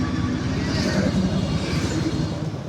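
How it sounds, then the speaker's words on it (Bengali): Motorbikes and auto-rickshaws race by at Cox's Bazar near the hills and casuarina groves in the early evening, making a continuous low engine drone that stays loud and steady throughout. "হুন্ডা এবং অটো বাইক রেস চলতেছে আমাদের এখানে।"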